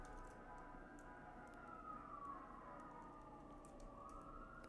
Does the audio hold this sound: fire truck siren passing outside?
yes